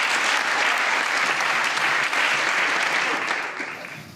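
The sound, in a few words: applause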